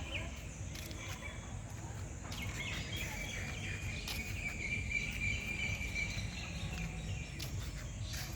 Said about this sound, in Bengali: কত পাখির ডাক